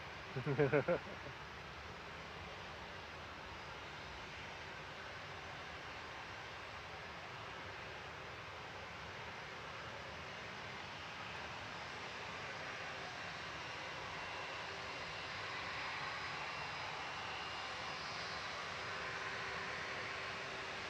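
At Manchester Airport, a British Airways Airbus A319 jet heading to Heathrow gives a faint, distant, steady roar that swells slightly toward the end, after a brief knock at the start.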